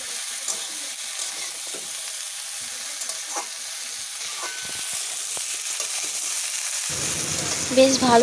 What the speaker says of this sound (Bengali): পুঁই শাকের ডাঁটিগুলো দিয়ে বেশ কিছুক্ষণ কষিয়ে নেব